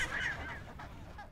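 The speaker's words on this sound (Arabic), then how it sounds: "تعد جزيرة ديسيبشن موطناً لمستعمرات كبيرة من البطاريق شريطية الذقن" A chinstrap penguin colony on Deception Island in Antarctica gives off loud, overlapping honking and braying calls, a dense raucous chorus from many birds at once with no talking.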